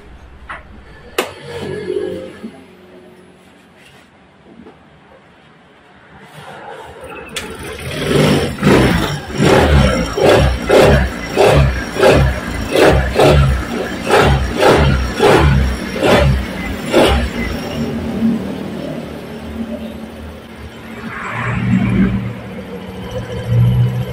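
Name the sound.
motorcycle engine starting and running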